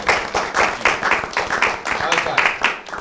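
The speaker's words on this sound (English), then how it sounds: "Give them a round of applause, everyone, for the judges." A live audience at a debate event applauds the judges, dense clapping that rises and falls in quick surges and sounds close and fairly loud throughout.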